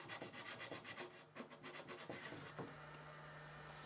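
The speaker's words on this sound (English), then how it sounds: "I did do some hand sanding" Sandpaper is rubbed by hand across a large live-edge oak frame in repeated back-and-forth strokes, a soft, faint scratching rhythm with no talk.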